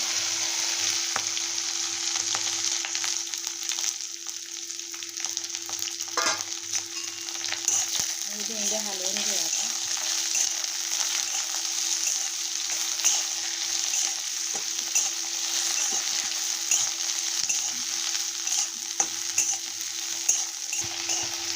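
Okra (bhindi) frying in a hot kadhai after cumin and mustard seeds have crackled, a steady broadband sizzle running throughout with a brief burst of stirring partway through.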